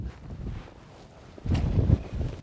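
Low, blustery wind rumbling against the microphone by the water with waves, gusting stronger toward the end, with no voices.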